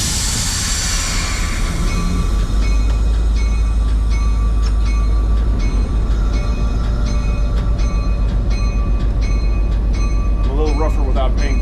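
The Sky Railway 93 train pulls out toward the crossing near Santa Fe, with a loud, constant low engine rumble, rhythmic clicking wheel and coupler sounds, and a brief squeal near the end, under occasional talk.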